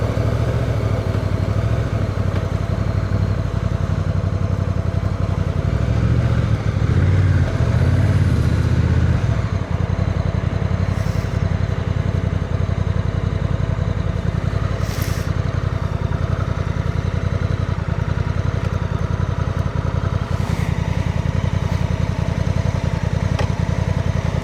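A 2025 Honda NT1100 DCT ES touring motorcycle's engine runs steadily throughout a test ride, a continuous loud low drone that swells briefly in the middle, with faint wind and road noise and no talk.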